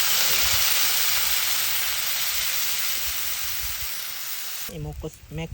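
A loud, sharp hiss of water hitting a hot pan of fried ginger, onion, garlic and chili, steady for several seconds and then cutting off abruptly as a voice briefly speaks.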